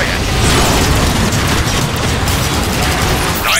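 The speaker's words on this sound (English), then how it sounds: "Try using your rocket launcher in robot form." A rocket launcher fired by a transforming robot in zero gravity, heard as a dense, sustained rumbling blast with crackling debris, loud and continuous throughout without a clear single boom.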